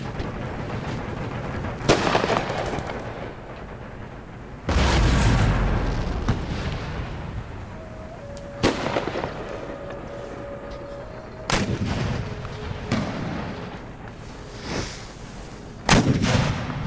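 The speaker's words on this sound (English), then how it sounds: "We're going to have multiple units shooting again." Cannons in the video game Empire Total War fire in a series of loud, sharp booms spaced a few seconds apart, each followed by a short rumbling tail over a quieter battlefield background.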